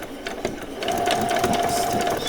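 Sewing machine needle stitching fabric for a doll's dog collar, a lead and a bag, with a short start, then a steady, close, continuous whirring run of stitches.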